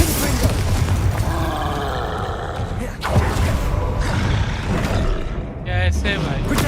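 Glacius, Confringo and other combat spells in Hogwarts Legacy crash out in a continuous barrage of booming blasts and roaring impacts, with a voice shouting over the loud, dense clamor throughout.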